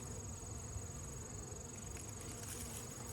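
Bees in an opened beehive, a faint continuous insect buzz with a steady high whine, even and unbroken throughout.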